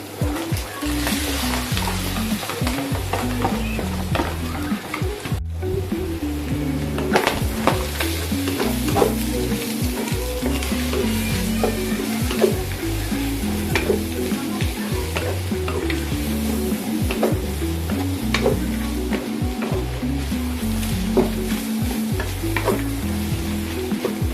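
Cabbage stir-fried in a hot pan for fried rice, with a loud, steady sizzle and frequent scraping and tossing strokes of a spatula, close by and without talk.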